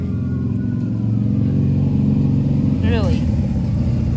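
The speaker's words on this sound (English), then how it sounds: "People are just driving by." Passing car noise while outdoors in nature, a loud continuous engine and road rumble close by, with a person speaking briefly over it.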